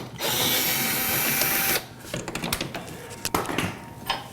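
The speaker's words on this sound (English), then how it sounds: "So I got a power drill here" A power drill whirs steadily for almost two seconds while working a screw on a mounting bracket, then stops, followed by clicks, clatter and short handling sounds.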